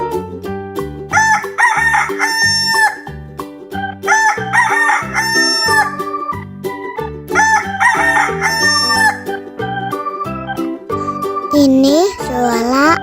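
A rooster crows three times in a regular pattern over a bouncy background melody of plucked and chiming notes, with a final rising crow near the end; no speech.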